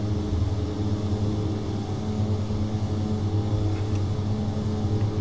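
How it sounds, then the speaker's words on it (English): Twin turboprop engines of a Twin Otter run at full takeoff power in a flight simulator game, a loud, steady droning roar with strong low harmonic hum and propeller buzz, continuous and close throughout with no speech. "with most turboprops, you don't mash the engines all the way to the firewall"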